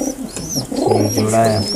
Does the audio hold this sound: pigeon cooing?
yes